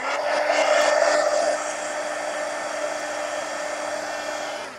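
A hair dryer blows steadily on a freshly glued or painted mixed media collage art card, loud at first and then settling into a slightly quieter continuous whoosh.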